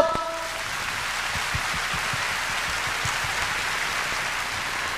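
Audience at a music festival applauding, a steady, dense wash of many hands clapping, continuous and moderately distant, with no voices over it.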